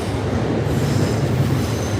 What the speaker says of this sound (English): Now, above me is the train station. It's a bit loud.